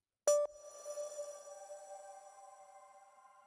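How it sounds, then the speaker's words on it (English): A single bright FM synth tone struck once, followed by a long shimmering reverb tail pitch-shifted up 5 semitones, its higher layers swelling and slowly fading. "we'll add this shimmer reverb with a pitch shift of 5 semitones"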